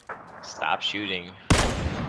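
A voice talks for a moment, then a single loud sniper rifle shot from the PUBG video game cracks out and trails off into a rumbling tail.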